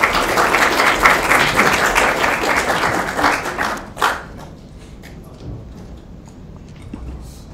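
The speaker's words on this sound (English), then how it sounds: "So let's give him a round of applause," Audience applause for a speaker at a tech conference, a dense wash of clapping for about four seconds that then fades into scattered claps, thumps and quiet room noise.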